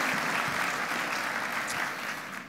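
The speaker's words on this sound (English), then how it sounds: "How about a round of applause for the staff at Childhaven who really do the work?" Steady applause from a luncheon audience honoring the Childhaven staff, a dense wash of clapping that holds evenly throughout and thins slightly at the very end.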